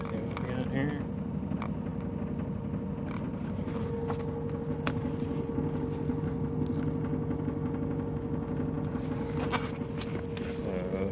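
Steady hum and rumble of an electric sailboat motoring at night on Chesapeake Bay, a continuous close drone with faint clicks and knocks and no talk.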